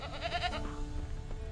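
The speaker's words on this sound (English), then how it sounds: "I hear a goat." A goat bleats in The Witcher 3 video game, a short wavering call lasting about half a second, moderately close over a low steady ambient background, with no talk.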